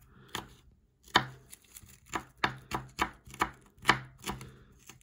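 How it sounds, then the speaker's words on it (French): Knife chopping garlic into thin slices on a board for stuffed vegetables, a steady series of about nine crisp, close knocks spaced roughly half a second apart, with no talking. "Donc là, on coupe l'ail."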